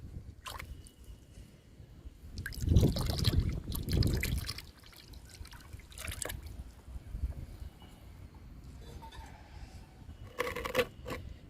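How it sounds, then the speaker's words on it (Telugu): Liquid is poured and swished into water, with a few louder splashing bursts followed by quieter dripping and trickling. "ఈ లిక్విడ్ని రెండు లీటర్ల వాటర్లో డైల్యూట్ చేసుకుందాము"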